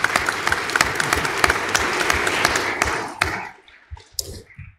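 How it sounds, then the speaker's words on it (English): A room of social workers at a social justice lecture panel bursts into a round of applause, dense and steady for about three seconds before thinning out into a few scattered final claps. "I want to give all the social workers in the room a round of applause"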